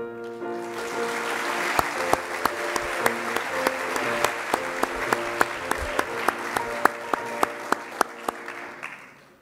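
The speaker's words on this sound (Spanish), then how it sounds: "Pedimos un aplauso para los estudiantes que se graduaron con reconocimiento por su excelente trayectoria académica y" A graduation ceremony crowd at Universidad de La Sabana applauds students graduating with honors, steady dense clapping across a large hall with no voices above it, fading toward the end.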